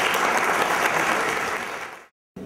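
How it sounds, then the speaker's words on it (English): A steady wash of panel audience applause at a convention industry event, loud and dense, fading slightly before cutting off abruptly near the end, then briefly resuming. "give them a hand clap."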